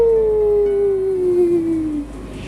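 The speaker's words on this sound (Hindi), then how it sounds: "कभी कभी भेड़िए की हाऊ" A single wolf howl, used as a sound effect in a horror story, glides slowly downward in one long, clear, mournful tone lasting about two seconds, close and loud, with no talking.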